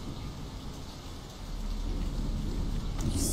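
Steady rain hisses in the Splinter Cell video game, swelling louder midway and carrying a low rumble, with a brighter spatter near the end and no voices.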